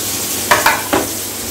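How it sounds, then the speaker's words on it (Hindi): Apples fry in a home kitchen pan with a soft steady sizzle, broken by three quick scraping stirs close to the mic. "एप्पल फ्राई हो रहे हैं"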